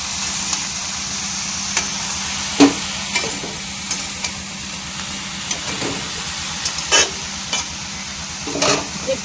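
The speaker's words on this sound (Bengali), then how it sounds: "একটু ভালো করে ভেজে নেবো সবজিগুলো।" Mixed vegetables for a home-style panch mishali sabji fry in a pan with a steady, close sizzle. Scattered clicks and scrapes of stirring break in throughout.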